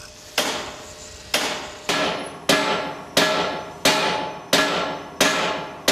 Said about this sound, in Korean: 이곳 저곳에서 망치질을 하는 소리가 요란하다